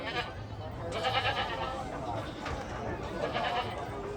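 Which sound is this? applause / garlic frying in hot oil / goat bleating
goat bleating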